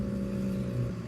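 Steady low hum of passing cars and an air conditioner, a continuous droning rumble close by with no distinct events, alone throughout the brief stretch.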